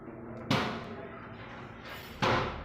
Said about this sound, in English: Watching that again, we can see a hand banging the back of the open door.